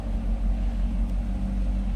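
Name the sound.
Corvette V8 engine idling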